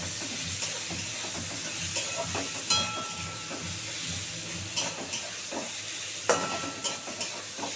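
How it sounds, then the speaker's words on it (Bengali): Potato pieces frying in oil in a pan, stirred throughout: a close, continuous sizzle broken by irregular spatula scrapes and taps against the metal. "একটু ভালো করে ভাজা ভাজা হোক বন্ধুরা দেখো এটা সুন্দর করে ভাজা ভাজা হয়ে গেছে"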